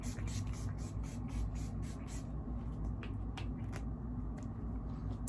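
A fall-scented room spray fires a rapid series of short, hissing pumps close by for about two seconds, followed by a few scattered single sprays over a low steady hum.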